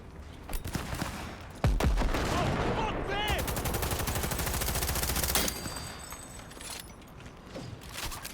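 Rapid automatic gunfire rattles in a sustained burst in the video game Cyberpunk 2077, with sharp shots, clicking mechanisms and a brief whooshing effect before the volley tails off.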